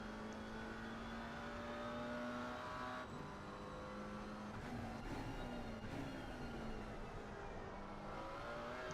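A McLaren GT4 race car at Bathurst in a racing video game, heard from onboard, with the engine whining loud and close as it climbs and drops through gear changes and revs, and no talking.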